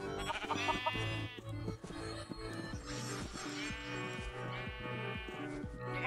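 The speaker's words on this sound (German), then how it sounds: "Vor allem diese Schafe, die sind immer" Sheep bleat in the video game Minecraft, their wavering calls rising over a busy layer of game music and sound effects.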